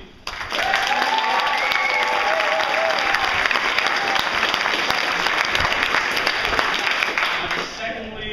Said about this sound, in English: We'll have a bit of an applause to see who we think was better